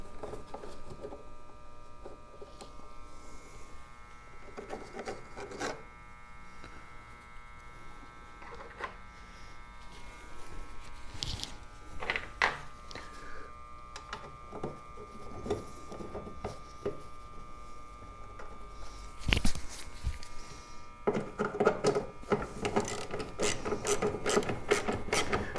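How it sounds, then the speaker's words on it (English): A bolt is tightened on a Husqvarna AWD push mower during a belt replacement, heard as close, buzzing mechanical whirs and ratcheting clicks in uneven bursts, growing louder toward the end, with no talking. "I'm going to tighten that down until I get this other one started."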